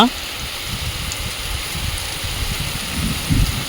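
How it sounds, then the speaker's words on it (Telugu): Steady rain pours down in a continuous broadband hiss, with a few heavier spatters and low rumbles mixed in. "అదిగండి ఎక్కువైపోయింది ఇక మీద కూడా పడుతుంది వాన"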